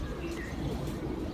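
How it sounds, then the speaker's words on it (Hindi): A breeder pigeon gives a soft, low, throaty coo at close range, brief and muffled over a quiet background. "मेरा कारकर्दगी वाला कबूतर है।"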